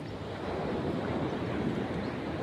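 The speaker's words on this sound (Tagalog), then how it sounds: "Lakas ng alon." Strong ocean waves surge in a steady, dense wash of surf, loud and close, with wind buffeting the microphone throughout and no voices.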